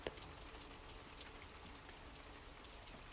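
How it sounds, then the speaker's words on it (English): Steady, soft rain falls continuously, with a gentle hiss and scattered drops pattering on a surface; quiet and even throughout, with no voices. "the sound of the rain keeps playing, helping you fall into a soothing sleep"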